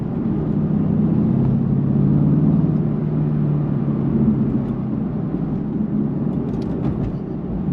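A Mercedes-Benz GT cruises along a road with a steady low engine and road rumble from inside the cabin, fairly loud but smooth and even throughout.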